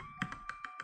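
Keystrokes on a 1stPlayer UNI-Q DIY mechanical keyboard kit, five quick clacky taps in an uneven rhythm, close and fairly soft with no talk over them.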